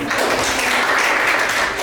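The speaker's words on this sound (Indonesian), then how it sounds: "Baik, berikan tepuk tangan." A classroom audience applauds steadily and loudly throughout, a dense wash of many hands clapping at once without pause.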